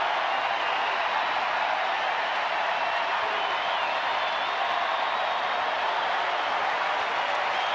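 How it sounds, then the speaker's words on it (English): A large baseball stadium crowd in Texas cheering and applauding for the hometown Rangers against the Angels, a steady, dense roar of clapping and crowd noise that holds evenly throughout without a break. "the crowd rising to their feet"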